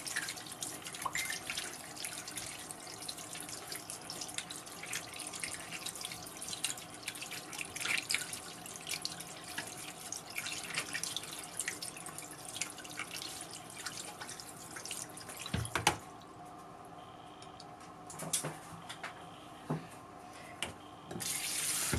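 Tap water runs steadily into a sink, with clinks and splashes of rinsing a ReFa Carat face and body roller, then the flow cuts off near the end leaving quieter drips and handling sounds.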